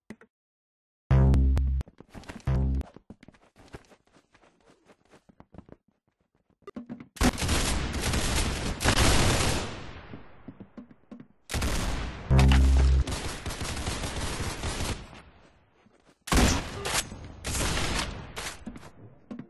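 Gunfire in the online shooter game Arsenal: a few isolated shots, then long loud bursts of rapid automatic fire separated by short pauses, close and dominant.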